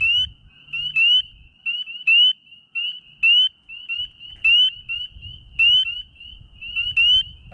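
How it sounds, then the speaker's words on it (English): Spring peeper frog peeping nearby in a steady series of sharp, high whistled chirps, recurring roughly every half second to second, with low rustling and handling noise in between. "I can talk loud and he still peeps."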